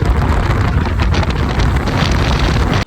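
Strong wind blasts across the microphone during travel near Bijapur, Karnataka, producing a loud continuous rumbling buffet that cuts off abruptly at the end.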